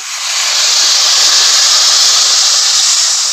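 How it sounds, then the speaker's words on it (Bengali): Water poured onto fried rice in a hot pot sets off a loud, sustained steam hiss that swells quickly and holds steady for a few seconds, close and alone. "আমার চালটাও সুন্দর ভাজা হয়ে গেছে। তো এবারে আমি ওই জলটা দিয়ে দেবো।"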